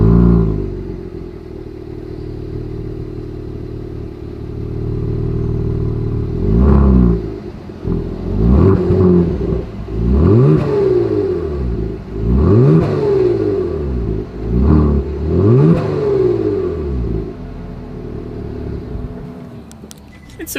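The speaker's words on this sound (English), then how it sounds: "As always, here is that exhaust clip." A 2021 Genesis G70 with a V6 exhaust idles, then revs repeatedly in sharp rising and falling bursts, loud and close behind the car, and settles back to idle.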